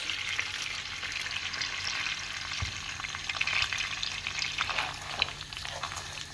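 Steady frying sizzle of rice in hot butter and oil in a pot, with occasional scrapes and clinks of stirring, close and continuous throughout.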